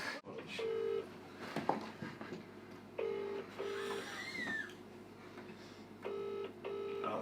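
A phone call rings out on speakerphone: after a brief dial tone, a repeating double-burst ringback tone sounds several times, with faint background voices between the rings.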